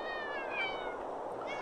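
A small cat meows in a video game, a couple of thin, rising mews over a quiet background with no talking.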